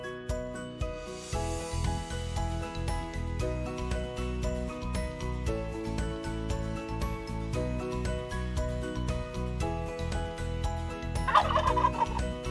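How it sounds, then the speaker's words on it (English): Turkeys gobble repeatedly in rapid bursts, loud and close, with a burst of clucking near the end. "Turkeys are large birds known for their plumage and unique vocalizations."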